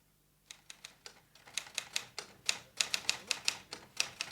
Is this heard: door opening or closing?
no